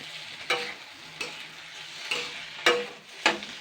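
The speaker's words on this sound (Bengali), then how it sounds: "এটাকে আমি আবারও ভেজে নেবো দুই মিনিট" Ground masala with dried chilli, coriander and black cumin fries in hot oil as a low, steady sizzle, while a spoon scrapes the pan every second or so in sharp, rhythmic strokes.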